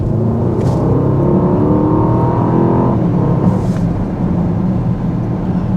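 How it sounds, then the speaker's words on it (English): A 2025 Mercedes-AMG GLE 63 S Coupe's V8 exhaust in comfort mode gives a loud, steady, deep drone with a slight rise in pitch and then a settling, continuous for about six seconds with no talking. "Not a bad exhaust note, but definitely not the best exhaust note."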